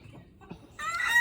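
Heritage-breed backyard chickens cluck in a short burst that rises loud near the end, after a quieter stretch of faint low background noise.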